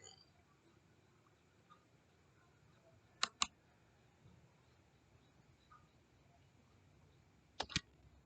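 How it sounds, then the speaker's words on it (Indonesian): Two quick pairs of sharp computer mouse clicks, close and crisp, separated by several seconds of quiet room tone. "klik"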